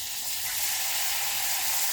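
Tamarind juice sizzles in a hot pan for pad thai with prawns and noodles, a steady, loud hiss of frying that carries on alone with no talk.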